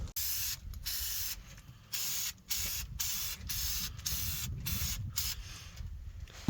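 Continuous bursts of Fluid Film undercoating spray hissing from an aerosol can under a truck, paused briefly between passes, close and steady.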